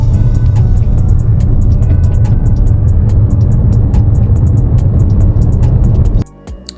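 A BYD Atto 3 in sport mode pulls hard from a standstill while towing, wheels spinning: a loud, steady rumble of motor and road noise under repeated tyre chirps, then it cuts off abruptly near the end.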